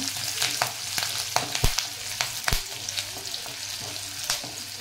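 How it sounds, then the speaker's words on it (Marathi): Garlic frying in oil with green chilli and curry leaves for Maharashtrian zunka, a steady close sizzle broken by several sharp spoon scrapes and stirring clatters, with no talking. "लसूण चांगलं फ्राय करून घ्यायचा।"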